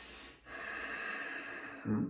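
Someone breathes slowly and audibly through the nose while holding an elastic band stretch for the upper back, with a soft steady airflow and a sharper exhale at the end.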